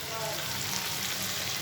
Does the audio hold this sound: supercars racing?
no